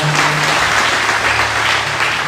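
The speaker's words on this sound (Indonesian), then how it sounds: "Tepuk tangan buat Tuhan." A church congregation applauds at a worship service, a dense, continuous clapping that fills the room without a break.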